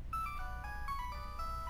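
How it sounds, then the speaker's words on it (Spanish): A mobile phone rings with a short melodic tune of stepped electronic tones that repeats steadily, fairly quiet over a low background hum. "ahí me suena el móvil"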